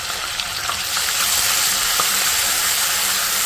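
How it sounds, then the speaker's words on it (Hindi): Ginger garlic paste frying with onions in a pan, a steady bright hiss and crackle of sizzling oil, close and continuous with faint stirring scrapes, no talking. "इसको थोड़ा सा भून लूँगी ताकि लहसुन अदरक का जो पेस्ट है उसका कच्चापन दूर हो जाए"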